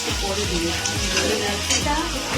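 Vegetables tumble into a hot pan for chilli chicken and fry with a steady, close sizzle, while a utensil scrapes and stirs in a repeating rhythm underneath.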